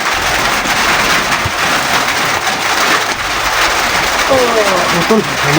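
Heavy rain pours down in a loud, steady wash of hiss across the whole stretch, with voices faintly mixed in near the end.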